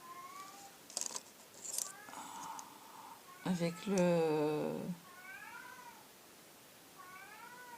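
A cat meows repeatedly indoors, a series of rising and falling calls including one long drawn-out wail, with a brief spoken word and some handling clicks early on.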